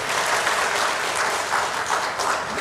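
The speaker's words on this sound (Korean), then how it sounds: "예, 박수 한번 주세요." Steady applause from a crowd, dense and sustained clapping filling the whole stretch with slight swells, no voices standing out.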